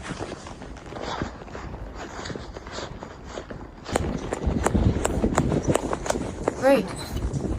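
Horse hooves clip-clop at a walk on a rural forest track, close and rhythmic, growing louder and sharper in the second half while people talk over them.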